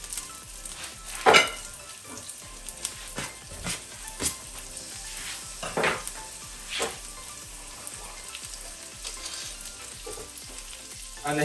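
Butter and red chili fry in a pan with an uneven crackling sizzle. Several sharper bursts and stirring scrapes stand out close by.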